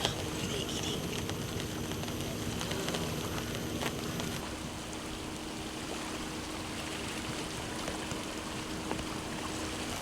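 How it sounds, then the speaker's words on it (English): Steady rain at Coney Island in Singapore, a continuous broadband wash of falling water that stays even and fairly loud, with no talking. "It's raining now"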